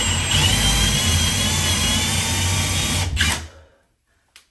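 A power drill whines loudly and steadily as it bores through a fire door, then breaks through and spins down to silence after about three seconds, followed by a faint short knock.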